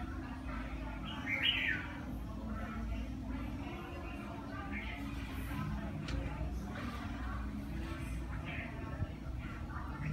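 A caged bird chirps in short, bright bursts outdoors under a grey, drizzly sky, the calls moderately near and scattered over a steady background hum.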